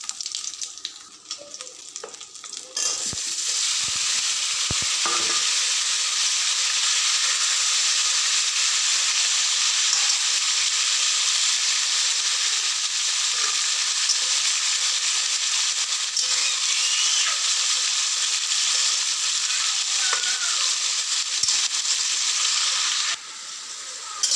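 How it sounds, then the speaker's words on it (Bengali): Potatoes frying in oil with cumin seeds, a loud, steady, close hiss and sizzle that runs almost unbroken after a few opening clatters, with no voices. "আলুটাকে ভেজে নিই"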